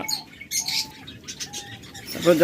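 Pet birds for sale, such as lovebirds, budgerigars and cockatiels, calling in short chirps and squawks with soft fluttering, including a brief harsh louder call near the end.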